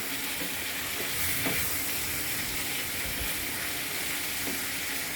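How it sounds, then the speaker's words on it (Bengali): Spices and tomato fry in a hot pan for a mola fish curry, with a steady, dense sizzle and occasional soft clinks of stirring. "এগুলো আমি ভালোভাবে আবারও ভাজা ভাজা করে নিচ্ছি"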